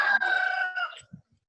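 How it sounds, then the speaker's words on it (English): A backyard rooster lets out a single loud, sustained crow close by, followed by a few faint, low clucks from the chickens before quiet. "Oh, I like the chickens."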